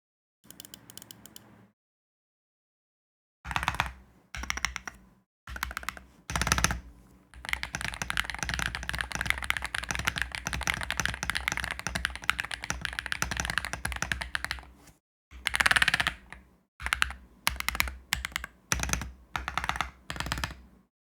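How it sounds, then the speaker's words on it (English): Keystrokes on a Chilkey Slice68 HE magnetic keyboard: short bursts of taps, then a long run of steady fast typing, then more brief clusters, crisp and close with no talking. "I will drop a sound test for you guys, so that you guys can hear how the keyboard sounds."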